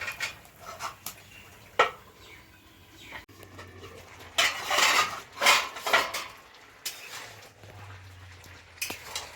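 Metal pot lid and utensil clatter over a pot of mixed vegetable curry being covered on a home stove, with a few sharp clinks followed by louder bursts of scraping and clanking, close by.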